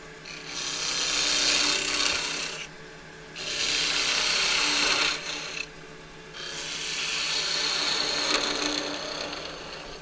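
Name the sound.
spindle gouge cutting wood on a lathe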